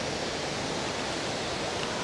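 Steady broadband rush of flowing water at Gwanghwamun in Seoul, continuous and even throughout with no voices, like a stream or fountain running close by.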